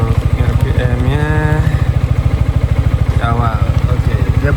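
A 2025 Yamaha XMAX scooter engine runs close to the microphone with a fast, steady pulsing putter, rising in pitch briefly as the throttle is blipped twice; someone talks over it.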